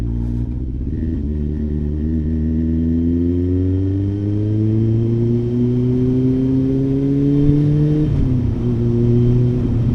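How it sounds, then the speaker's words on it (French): A Dacia car approaching, its engine note rising steadily in pitch as it accelerates close by, then dipping briefly near the end as it shifts, loud and alone without talk. "Vous voyez où il arrive le Dacia"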